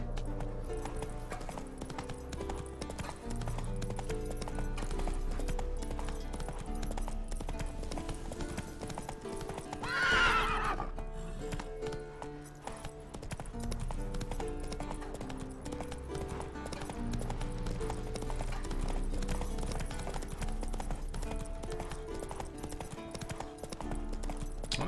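Horse hooves clip-clop steadily through a long stretch of The Witcher 3 gameplay, with a brief whinny partway through, heard over continuous game music and ambience.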